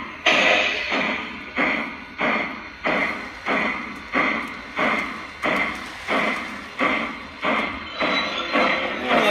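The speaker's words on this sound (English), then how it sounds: "let's get pulling a freight train while we're here" A model freight train runs along the track, producing a loud, regular clacking rhythm of about one click-and-rumble burst every two-thirds of a second, close and without talk.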